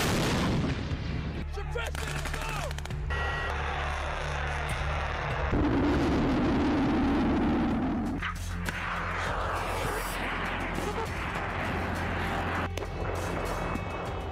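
Artillery shell fire in wartime news footage from the Ukraine conflict, with repeated loud booms and sharp blasts in a dense, continuous barrage.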